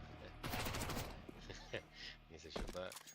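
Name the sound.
gunfire in the video game Counter-Strike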